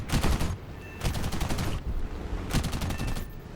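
Rapid bursts of aircraft cannon and machine-gun fire from a Ki-45 Ko heavy fighter in War Thunder, three loud sustained volleys separated by brief pauses over a constant engine drone.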